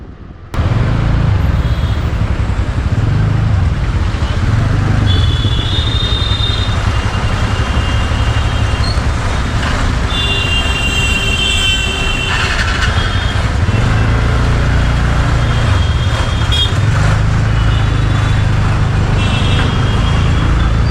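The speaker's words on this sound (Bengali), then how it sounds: "জীবনে প্রথম দ্বিতীয় হুগলি সেতু দিয়ে স্কুটি রাইড করা" A scooter ride through traffic on the Second Hooghly Bridge: a steady engine drone and wind rush last throughout, with passing vehicles and a few distant horn toots rising now and then.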